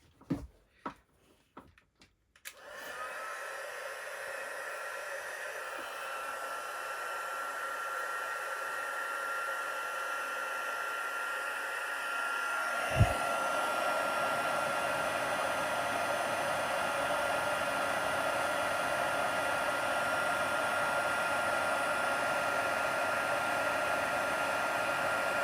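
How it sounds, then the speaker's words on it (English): A craft heat tool for embossing powder blows a steady, loud fan-like whoosh after a few clicks, and the tone shifts midway as it keeps running continuously up close. "let's just get this heat tool heated up"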